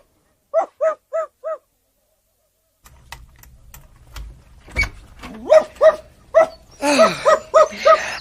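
A dog in a radio audio play barks, first four quick, evenly spaced barks, then a pause and a livelier run of barks and yelps that grows louder and faster.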